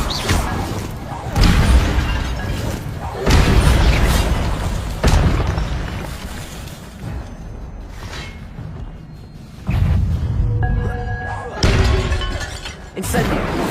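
Incendio fire spell explosions in Hogwarts Legacy, several loud bursting booms that arrive in repeated waves, each a sharp crackling blast with a short fiery tail, with a voice calling out the spell between them.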